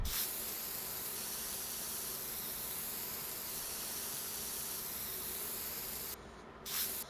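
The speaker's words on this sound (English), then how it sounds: "let's spray some dirt down." A steady, loud spraying hiss runs almost without a break as dirt is sprayed onto terrain in The Sims 4, then briefly cuts out near the end.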